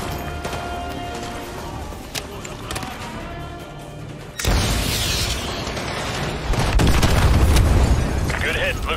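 Missile strike explosions in Call of Duty Modern Warfare 2, with heavy booming impacts and rumbling debris building louder midway and again near the end, mixed with game sounds and voices.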